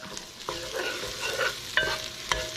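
Chopped onion sizzles in a hot pan as it is stirred, with a few distinct spatula scrapes and knocks against the pan over a soft, steady frying hiss, close up and with no talking.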